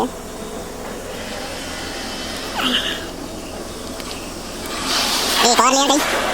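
An automatic car wash sprays shampoo over a car from above and from the front, producing a steady hiss of spraying water that swells louder near the end, with people talking inside the car.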